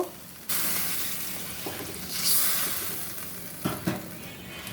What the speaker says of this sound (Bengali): দেখো মশলা কষানো শেষ জল দিয়ে দিব